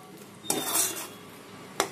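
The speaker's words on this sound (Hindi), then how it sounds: "तो मसालों को भी हम अच्छे से भून लेंगे ऑयल ऊपर आने तक।" A spoon scraping and clattering against a pan while spice masala roasts for a gravy, two sharp stirring bursts with a faint sizzle in between, and no voices.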